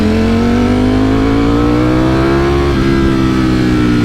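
A Ducati Streetfighter V4S motorcycle engine drones loudly close by, ridden in cold weather, its pitch rising slowly and steadily as it accelerates, with a small shift near the end.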